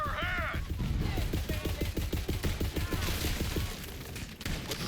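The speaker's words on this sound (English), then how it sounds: "I just started shooting you." Rapid cannon fire in a shooter video game, a dense run of regular booming shots stacked close together throughout, with a shouting voice over the opening moment.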